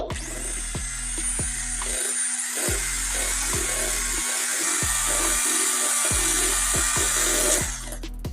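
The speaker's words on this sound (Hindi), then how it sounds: "अब दोबारा से हम ग्राइंड करेंगे।" A kitchen blender grinds half-frozen custard ice cream in a loud, close, continuous whir. The motor repeatedly dips and surges as the thick mixture catches, and no one speaks.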